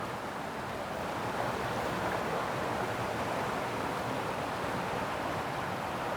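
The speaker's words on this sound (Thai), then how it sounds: "ข้างหน้านะครับจะเป็นน้ำตกนะครับ" Steady, dense rushing of a waterfall, a continuous broadband roar of falling water heard close, with no voices.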